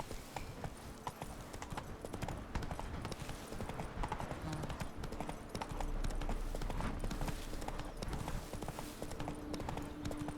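Hooves of Roach, the horse in The Witcher 3: Blood and Wine, pound in a steady galloping clip-clop that runs continuously and up close, with game ambience underneath and a faint voice at times.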